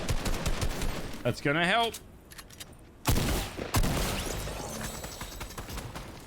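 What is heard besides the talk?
gunfire in a video game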